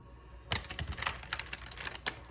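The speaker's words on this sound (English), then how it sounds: "I already pre-shuffled this deck, so we won't have to shuffle too much. Let's do it one more time." A tarot card deck is shuffled close up in quick, crisp bursts of riffling and flicking cards, with short pauses between the sharp clattering passes.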